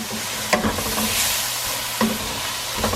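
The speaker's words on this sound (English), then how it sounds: "Just give it a good stir." Chicken curry with ginger garlic paste sizzles loudly and steadily in a pan, while a few spoon strokes scrape through it at intervals.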